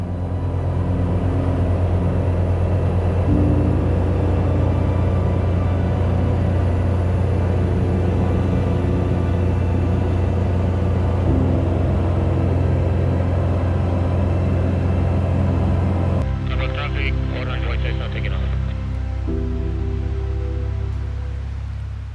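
A fully loaded small airplane takes off from a tight airstrip. Its engine roars loud and close, heard steadily from inside the cabin, with a strong low droning rumble that shifts in tone late in the run.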